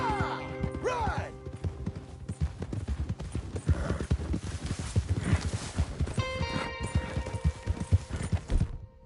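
Horse hooves clip-clopping steadily in the video game Red Dead Redemption 2, a dense, continuous run of close hoof strikes with faint game sounds and music around it.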